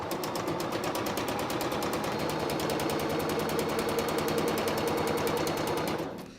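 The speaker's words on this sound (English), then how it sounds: "we're ready to get the sewing machine. Here is one I made earlier. So we just need a straight stitch all the way along the edge of the hand" Sewing machine running a straight stitch along the edge of a fabric puppet hand, with a steady, rapid mechanical chatter that is loud and close and stops near the end, and no talking.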